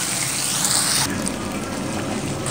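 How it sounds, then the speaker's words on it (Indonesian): A pot of water boils at a rolling simmer, a dense, steady bubbling hiss heard up close with no voices. "Dan ini aku sudah merebus air, sudah mendidih."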